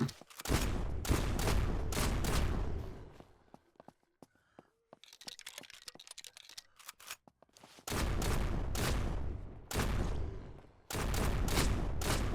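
Gunfire in the zombie survival video game SurrounDead: loud rapid bursts of shots at the start, a quieter stretch of scattered clicks and small sounds, then more heavy bursts of fire toward the end.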